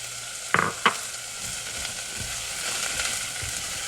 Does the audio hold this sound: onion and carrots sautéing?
yes